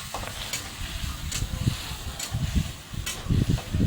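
Tomato and coriander being stirred in a frying pan make a soft, steady sizzle. Repeated low scraping strokes of the spoon sound close by, with no speech.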